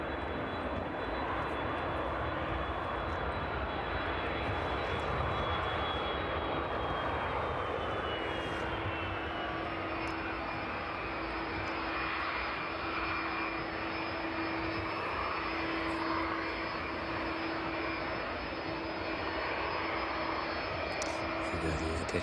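A DHL Boeing 757 jet taxis at East Midlands Airport in the evening, its engines giving a steady distant roar with a slowly falling whine, while someone talks quietly over it.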